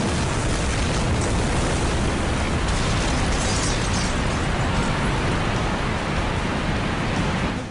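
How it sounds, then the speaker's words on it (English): A loud, sustained roaring blast of rushing noise from a steam pipe in New York bursting open after a water hammer, like a violent burst of high-pressure steam, constant and overwhelming for the whole stretch. "The impact of the water hammer blows open the steam pipe"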